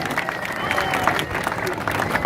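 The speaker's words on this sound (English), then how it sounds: "give my new good friend and co-star Desiree a huge round of applause" A circus audience claps and cheers in a steady burst of applause, fairly close, with crowd murmur mixed in.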